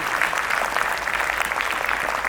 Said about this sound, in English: Let us all clap for a huge round of applause and welcome him.